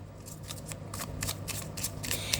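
Tarot cards shuffled by hand during a reading, a run of quick papery riffling bursts over a low steady hum, fairly quiet and close.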